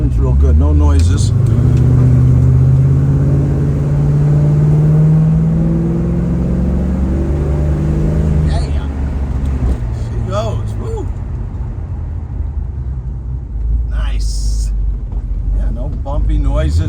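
A 1972 Plymouth Roadrunner's 400 engine with automatic transmission rumbles and revs close by, a low steady roar throughout.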